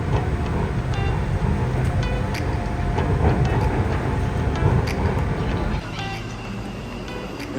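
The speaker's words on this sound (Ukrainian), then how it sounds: "Ось так виглядають ці супер круті і модні у них поїзда." Driverless metro train running in Bangkok, a loud continuous rolling rumble with squeaks and clicks that drops to a quieter hum near the end, with no talk over it.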